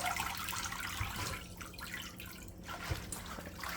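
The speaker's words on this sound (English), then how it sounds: "let it go and shake it in the water" Callaloo leaves are shaken and rinsed in a bowl of salt water, giving soft continuous sloshing and dripping at low volume with faint knocks.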